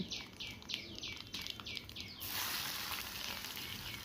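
Onions frying in hot oil with lentils and mustard seeds in a pan: a soft, steady sizzle that turns louder and fuller partway through, with a bird chirping rhythmically in the background.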